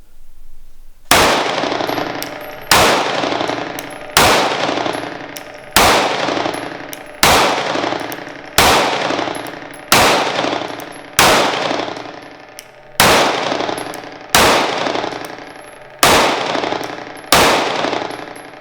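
A Sig P365 pistol fires about a dozen sharp, loud shots in a slow, even sequence, each crack followed by a ringing decay before the next.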